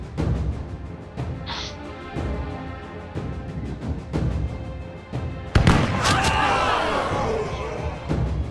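Booming cannon fire and explosions from the war game We. The Revolution, several sharp impacts followed by a loud, sustained blast with rumbling debris near the end.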